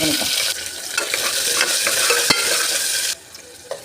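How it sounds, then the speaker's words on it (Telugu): Onion, green chilies, mustard seeds, cumin and chana dal frying in hot oil in a pan: a loud, steady sizzle with occasional stirring clicks, easing off sharply near the end. "ఆయిల్ హీట్ ఎక్కింది కొద్దిగా ఆవాలు జీలకర్ర శనగపప్పు ఆనియన్ పచ్చిమిర్చి బాగా"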